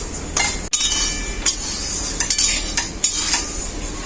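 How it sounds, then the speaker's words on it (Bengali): Dry mung dal is stirred in a dry wok, giving close, steady scraping and light rattling with occasional sharper clinks of the spatula against the metal. "এই মুগ ডালটাকে শুকনো কড়াই এইভাবে নাড়তে থাকবো।"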